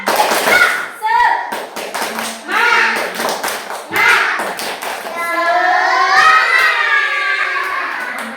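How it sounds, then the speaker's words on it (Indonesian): Children in an Indonesian RA kindergarten classroom perform the rhythmic tepuk semangat spirit clap, sharp hand claps and thumps in patterned bursts mixed with chanting young voices, loud and close. "Tepuk semangat."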